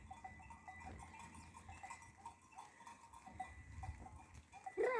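A flock of sheep moving past at a distance on a highland pasture, faint bleats and clanking bells over low ambient noise, with one closer bleat at the end.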